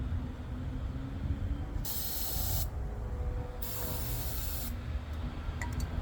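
Two long hissing sprays of an aerosol into a rat rod VW engine intake, each lasting about a second, close by over a low rumbling engine-like background.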